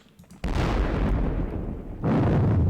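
Cannon fire from a Thirty Years War battle game bursts in two heavy, rumbling booms, the first sustained and rolling, the second striking loud near the end.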